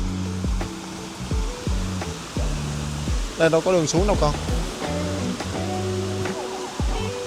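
A clear mountain stream along the Hai Van Pass route in Vietnam gives a steady, broad rushing wash beneath a woman's close, continuous speech in Vietnamese.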